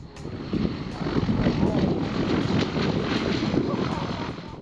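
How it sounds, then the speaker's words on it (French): A propeller aircraft roars past close by while landing, flying low over the grass beside the runway, its engine drone steady and loud for several seconds, with faint voices underneath. "pendant l'atterrissage, le pilote de cet avion ait décidé de tondre la pelouse située aux abords de la piste"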